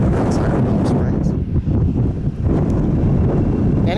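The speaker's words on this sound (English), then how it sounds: "it's a bit windy here in the desert" Heavy desert wind near Palm Springs buffets the microphone in a constant low roar, gusting and dipping briefly midway, loud and close.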